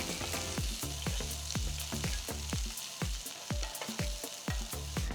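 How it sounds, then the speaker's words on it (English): Shallots, chopped green chilies and ginger sizzle steadily in a pan, with a rhythmic series of sharp spatula strikes against the metal roughly every half second, close and clear with no talking. "Add 3 finely chopped green chilies and a small piece of finely chopped ginger and sauté until fragrant."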